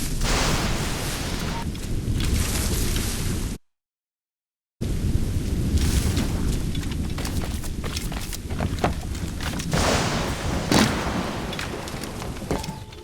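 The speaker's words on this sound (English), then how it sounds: "The storm's getting worse." A thunderstorm in the video game Assassin's Creed Rogue, with steady heavy rain hiss and repeated rumbling thunder cracks, briefly dropping to silence before the downpour and booms resume loudly.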